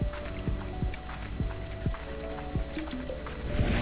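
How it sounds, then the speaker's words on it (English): Chickens spawning in the Slime Rancher video game, heard as a string of bubbly, squishy pops and short tonal blips recurring every half second or so over a steady background of game ambience. "that's the sound of the spawn of chickens."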